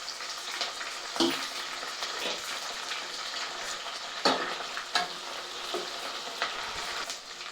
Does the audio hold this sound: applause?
no